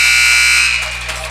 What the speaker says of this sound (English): And that's the buzzer, end of the first quarter.